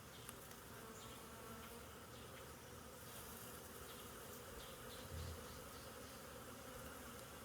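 Dense, steady buzzing of agitated honeybees swarming around an open hive during an inspection, close and continuous with a slight swell near the end and no talking.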